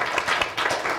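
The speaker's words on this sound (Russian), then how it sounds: "Благодарим вас, аплодисменты." Audience applause at the close of a Russian political debate event, Political Battles 2017: a short, steady burst of many hands clapping with dense, even texture and no clear pauses.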